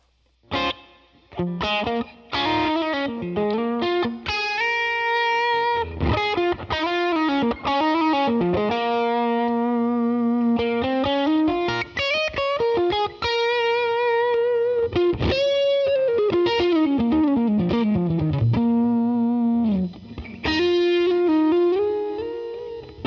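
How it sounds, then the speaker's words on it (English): A Line 6 Helix Super Chorus preset on guitar gives a shimmering, squishy chorus with slight grit, sustained notes and bending melodic lines ringing steadily for over twenty seconds without talk. "So that's the Super Chorus preset."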